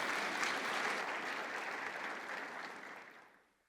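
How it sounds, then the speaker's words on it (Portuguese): Applause from a church congregation fills the space, a dense steady wash of many hands clapping that holds strong, then thins and fades out near the end. "Pode dar uma salva de palmas aí"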